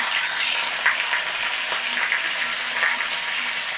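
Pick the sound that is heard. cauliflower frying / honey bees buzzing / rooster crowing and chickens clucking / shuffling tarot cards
cauliflower frying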